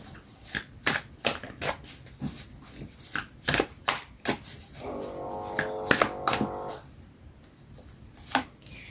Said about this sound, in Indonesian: ini aku coba untuk menarik pesan dari kartu tarot